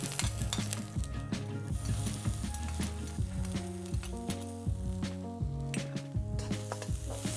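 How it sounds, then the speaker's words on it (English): Chili, garlic and coriander stems sizzle in a hot wok, a steady close frying hiss punctuated by metallic scrapes and clinks of stirring. "I'm just going to pop them in our wok and get them frying off"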